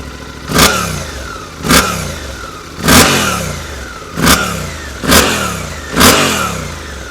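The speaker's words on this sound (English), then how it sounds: "The engine sound is also superb. It has a 270 firing order, and this makes it sound like a V-twin." A Suzuki V-Strom 800 DE parallel-twin with a 270-degree firing order snaps through six sharp throttle blips at a stationary idle, each a loud, quick rev that falls back to a lumpy, V-twin-like idle.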